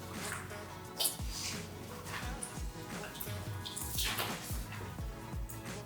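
Water splashing and running over a car panel during a wash with a rinseless product by a detailer, a steady wet wash with repeated soft splashes and sloshes, close and fairly even, no talking.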